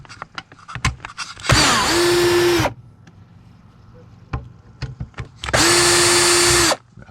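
A power drill backs case screws out of a BC980SSB radio in two loud whirring runs of about a second each, the motor pitch dropping under load, with small clicks and handling noises between.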